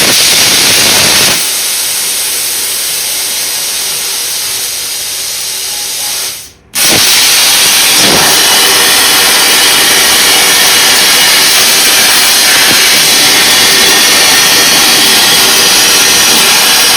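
A metal boat hull being cut, a loud continuous hissing grind that runs nearly unbroken, with one brief pause partway through before resuming at full strength.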